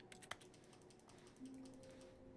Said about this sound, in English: the painting sounds like a keyboard